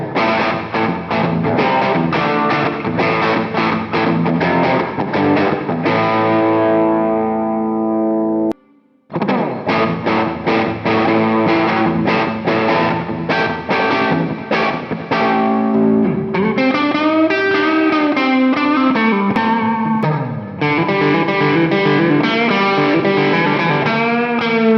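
A Firefly FF338 PRO semi-hollow electric guitar plays continuously with heavy effects, distorted and chorused tones, pausing briefly about a third of the way in before resuming, loud and upfront.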